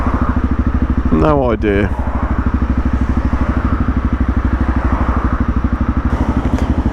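A Honda CRF250 Rally motorcycle engine drones steadily and loudly while riding, a constant close throb; someone speaks briefly over it.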